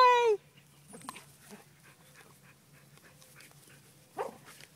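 A dog barks at a snake outdoors, one loud close bark right at the start, then quieter scuffling and a brief whimpering yip near the end.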